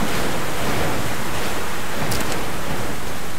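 Strong wind buffets the camera microphone outdoors, a steady loud rumbling roar with no voices, briefly gusting harder partway through.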